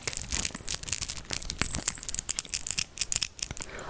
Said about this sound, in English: It's got little bells, they're so cute.